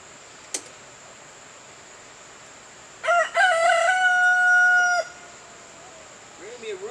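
A single rooster crows once, loud and drawn out for about two seconds, against a quiet background with a steady high whine.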